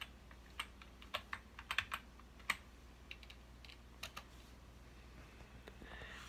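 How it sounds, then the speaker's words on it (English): Password typed on a computer keyboard while reinstalling a modified boot.efi on a Mac Pro: scattered quick key clicks in small bursts, fairly close and quiet, with no talking. "We hit authenticate, then replace, type in our password"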